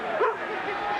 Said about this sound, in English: He's barking for Pavlis